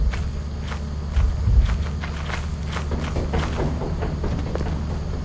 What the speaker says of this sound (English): You'll hear him when he starts stomping fast.